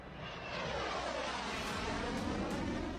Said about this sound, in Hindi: ये नाटो का F-16 फाइटर जेट है जो अमेरिका में बने ग्लाइडेड बमों से लैस है।